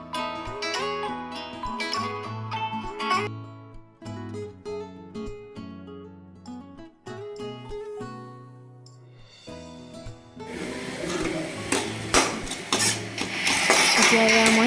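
Carrots, tomatoes and cabbage for chowmein are stir-fried in a pan. Background music plays at first, then a broad, hissing sizzle with scraping rises over the final few seconds.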